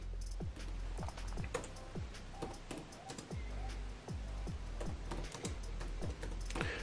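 Rapid typing on a computer keyboard, a steady patter of close, crisp key clicks with brief pauses, heard alone.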